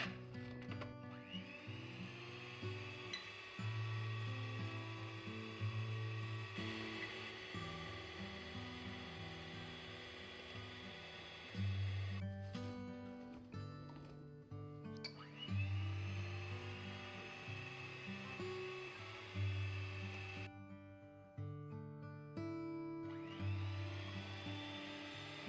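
An electric hand mixer beats butter and sugar for a rich Christmas plum cake batter, a steady whirring motor drone with shifting pitch as the beaters move through the mix, close and continuous with no talking.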